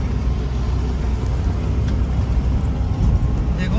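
A Ford Endeavour SUV drives off-road through rainy-season mud near a brickworks, giving a continuous low engine and tyre rumble that stays loud and even throughout.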